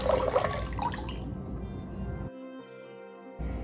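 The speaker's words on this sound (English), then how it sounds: "We're going to take some cold water and we're going to fill that right up." Cold tap water runs and splashes into a big bowl, a steady rushing fill that cuts off abruptly, then resumes briefly.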